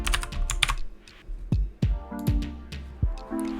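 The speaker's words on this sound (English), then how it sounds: "And authentication is required, so I'll enter Ramsley's password." Keys tapped on a computer keyboard while entering a password, a series of sharp, close clicks in an uneven rhythm with short pauses between.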